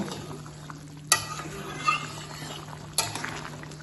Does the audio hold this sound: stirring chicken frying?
yes